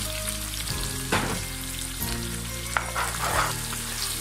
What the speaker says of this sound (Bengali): আমি ভেজে নিচ্ছি,